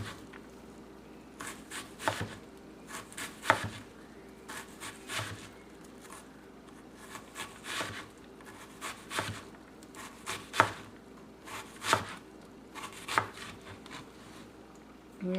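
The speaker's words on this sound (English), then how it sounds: "make cuts from top to bottom very thinly" A knife thinly slicing an onion on a cutting board in a home kitchen, sharp irregular taps and chops in small bursts separated by quiet pauses, close and fairly soft, with no talking.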